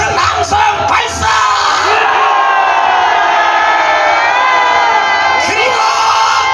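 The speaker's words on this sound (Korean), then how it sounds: "찬불나면 더 큰 함성 발사!" A big rally crowd bursts into an even louder, sustained roar of shouts and cheers on cue, close and overwhelming, with a few sharper yells near the start and end.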